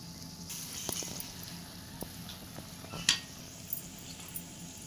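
Three eggs cooking in a pan give off a soft, steady sizzle, broken by a few light clicks and one sharper clink of a utensil, close and quiet.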